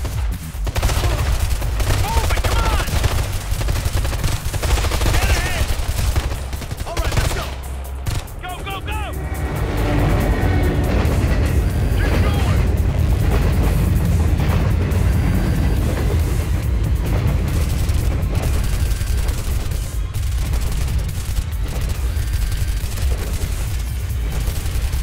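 Sustained gunfire in the shooter game Ghost Recon Future Soldier: dense bursts and rattling shots with booming impacts over a loud, continuous battle din, a brief lull near the middle, and someone talking over it at times.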